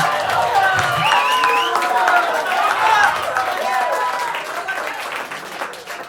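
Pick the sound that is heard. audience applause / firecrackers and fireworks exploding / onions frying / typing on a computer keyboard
audience applause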